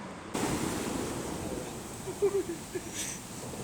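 Big ocean waves at a skimboarding beach, a faint, distant wash of surf that rises after a brief silent start, with a few soft thumps near the end.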